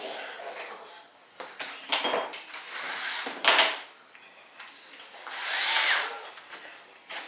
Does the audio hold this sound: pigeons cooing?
no